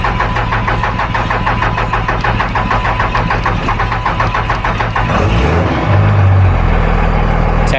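A Duramax diesel pickup truck cranks with a fast, loud, rhythmic starter whir for about five seconds, then catches and settles into a steady, close diesel idle rumble, with no talking.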